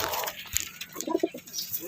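Young pigeons in a loft giving soft, low coos in short bursts, along with faint fluttering and rustling, close by and with no speech.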